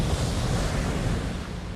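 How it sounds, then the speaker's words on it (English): Crashing ocean waves and gusting wind from the Saving Private Ryan beach-landing opening, a dense, steady roar of surf and wind with no voices. "only the sound of hard water and fast winds are heard."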